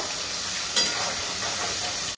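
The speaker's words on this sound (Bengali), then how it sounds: "পেঁয়াজটা একটু লাল লাল করে ভেজে নেব।" Onions fry in oil in a pan for a chicken biryani meal, giving a steady, close sizzle with a brief stirring scrape near the start. The sound cuts off abruptly at the end.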